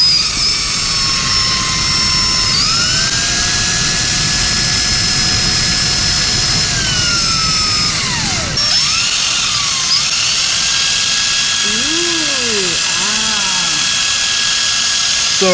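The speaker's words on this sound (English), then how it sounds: "Put it on the drill." A power drill spins the fitting of an LS-swap accelerator pedal, a loud steady high whine that slides in pitch as the drill slows and speeds up, with a brief drop and restart partway through.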